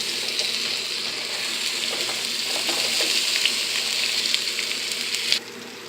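Steady, dense sizzle of potatoes hitting a hot pan with chorizo, loud and close, crackling continuously for several seconds before dropping slightly near the end, with no talking.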